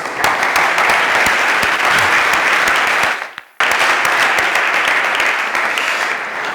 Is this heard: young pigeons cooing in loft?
no